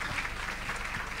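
Conference audience applauding the speakers, a brief steady patter of clapping heard from within the hall.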